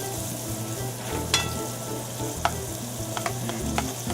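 Onions frying in a pan with rice, a steady moderate sizzle broken by a few sharp clinks and scrapes from stirring, no voices.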